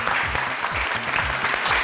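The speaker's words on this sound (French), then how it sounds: "on l'applaudit très très fort" A television talent show audience claps loudly and steadily for a contestant, a dense wash of applause with no voices over it.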